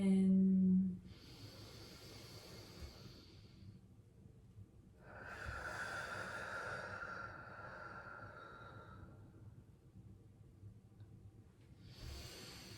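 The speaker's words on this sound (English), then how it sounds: "Deep breath in." A slow, deep breath is drawn in during a quiet kitchen-magic self-love spell jar ritual. The breathy inhale is soft and close and holds steady for several seconds, with silence on either side.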